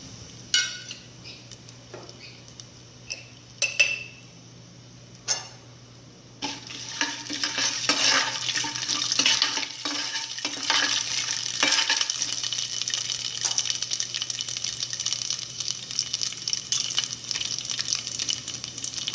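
Peanuts dropped into hot oil in a pan while cooking puliogare, a few sharp clinks first, then a sustained loud crackling sizzle with scraping stirs, close up and continuous.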